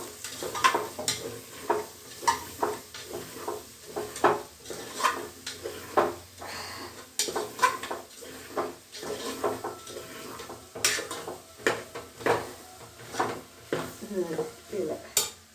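A spoon stirs bottle gourd pieces with onion, green chili, ginger-garlic paste, turmeric, mustard seeds and cumin in a hot pan. Close, irregular scraping strokes knock against the metal over a light, steady sizzle.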